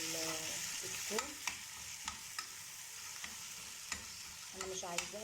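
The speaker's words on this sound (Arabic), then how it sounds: "بخليها تاخد تشويحه كده" Garlic and hot green pepper sautéing in a pan for moussaka: a steady close sizzle with spoon stirring strokes and small clinks throughout, no talking.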